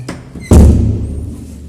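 A house door swings shut with a loud thud and a short ringing decay, preceded by a faint creak; no voices.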